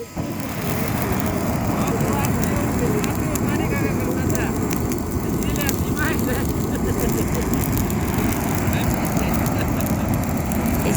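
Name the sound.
vacuum cleaner blowing air onto a campfire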